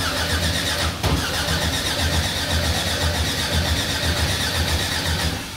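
A car engine fires up after oil priming with a short burst, then runs at a steady, loud idle throughout, with no talking.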